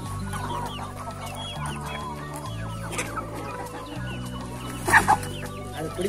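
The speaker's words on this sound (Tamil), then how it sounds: "சேவல்" Rooster and country chickens on a two-acre poultry farm cluck steadily and close, with overlapping calls and a louder squawking burst near the end, no talk.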